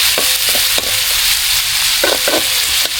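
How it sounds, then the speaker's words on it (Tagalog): Loud steady sizzle of eel being sautéed in a pan for adobo, with a few soft stirring scrapes and knocks over the constant frying hiss, close, with no talking. "Gigisa pa natin yan guys."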